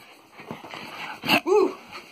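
A pug plays with a new Christmas toy, giving soft snuffling whimpers and then a short, sharp yip and a whiny bark, near and fairly loud, with faint voices in the room.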